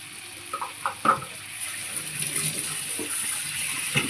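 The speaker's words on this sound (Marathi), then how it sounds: "भांडं थोडंसं धुवून" A cooking pot rinsed under a running tap, a steady hiss of flowing water with a few clinks and splashes early on, close and moderate in level, with no talk.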